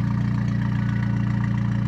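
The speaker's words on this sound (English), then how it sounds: "Vacuum, it's idling rich," A turbocharged car engine with a T3/T04B 57-trim turbo idles rich and stone cold on its first start, a steady low rumble with an even pulsing beat, close up, with no talk.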